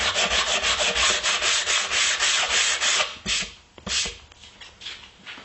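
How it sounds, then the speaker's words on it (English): Steady back-and-forth scraping of 120-grit sandpaper on a sanding block over wood, rhythmic strokes for about three seconds, then a few slower, broken rubs before fading. "I'm going to use 120 grit sandpaper with a sanding block"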